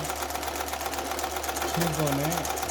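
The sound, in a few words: household sewing machine sewing a quilting stitch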